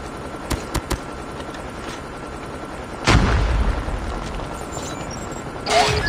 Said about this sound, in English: Repeat, friendly nuke has been launched.